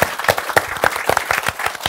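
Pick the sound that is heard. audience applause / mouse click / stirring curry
audience applause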